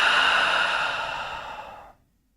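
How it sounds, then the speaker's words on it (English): A single long, breathy exhale through the mouth during a guided breathing exercise, close and steady for about two seconds before fading to silence. "Relax, exhale through the mouth."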